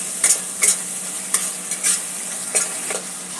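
Masala frying in oil for chole is stirred with a spoon, a low sizzle under a series of quick scraping strokes against the pan, close and fairly loud.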